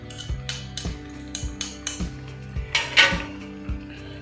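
Chicken with ground garlic being stirred in a pot, a regular rhythm of sharp metal spoon knocks and scrapes against the pot, about two per second, close and fairly loud.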